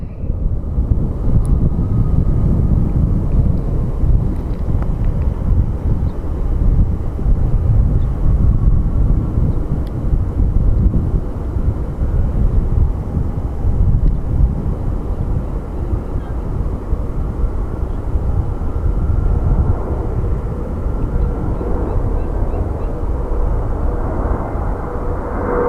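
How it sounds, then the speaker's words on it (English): A CRJ regional jet departing Phoenix Sky Harbor International Airport, a loud, sustained low roar heard from a distance with wind buffeting the microphone, steady for the whole stretch with no talking. "We have a little CRJ up next for departure."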